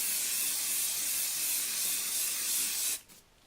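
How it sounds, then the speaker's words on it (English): Hairspray sprayed onto pom-poms, one steady close aerosol hiss lasting about three seconds before cutting off abruptly into quiet. "give the pom-poms a good coating of hairspray"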